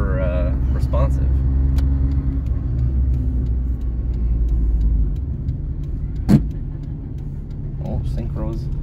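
A 1996 Daihatsu Mira TRXX Avanzato turbo hums and rumbles steadily from inside the cabin while driving, with a brief louder knock midway and a voice talking over the engine.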